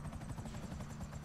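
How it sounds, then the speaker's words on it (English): Steady rotor thump and engine whine of a helicopter in the video game GTA V, a continuous pulsing drone held at moderate level throughout. "Oh my god, helicopter."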